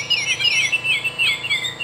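A Wild Republic Audubon plush Baltimore Oriole toy plays its recorded call: bright, clear whistled chirps repeated several times in quick succession, loud and close with no other sound.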